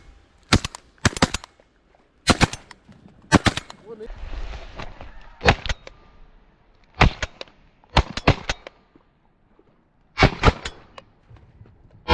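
Shotgun blasts ring out during a duck hunt in Sindh, Pakistan, about eight sharp loud reports spaced irregularly across the scene with brief echoing tails, and voices talking between shots.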